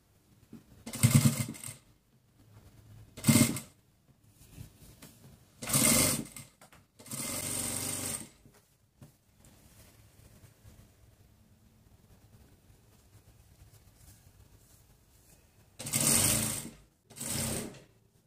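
A sewing machine stitches a seam on a cloth diaper in short bursts, about six runs of rapid mechanical whirring separated by quiet pauses, close and clear with no talk.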